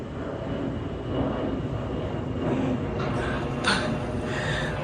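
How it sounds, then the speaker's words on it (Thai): An airplane passes overhead above a house's front yard in Thailand, a steady, moderately loud engine roar that swells slightly toward the end. "เวลาผมถ่ายเนี่ยเครื่องบินมาจริงเลย"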